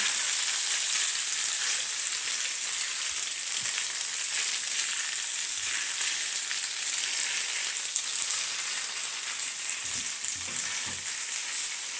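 Pasta being stirred and mixed in a hot pan gives a loud, steady close sizzle, with a few soft scraping stirs near the end.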